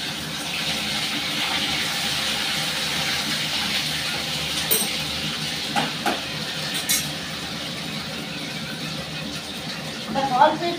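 Panch phoron spices sizzle in hot oil in a wok, a steady broadband frying hiss running throughout, with a few brief crackles and pops near the end and a low voice faintly underneath.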